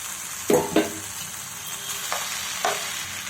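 A spatula scrapes and stirs spicy sweetcorn rice with tomato ketchup and coriander in a frying pan, giving a few distinct scraping strokes over a faint continuous sizzle, close up.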